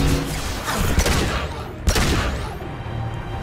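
Gunfire in the sci-fi shooter Mass Effect 2: a dense volley of rapid shots with a sharp louder blast near the middle, fairly close and continuous over game ambience.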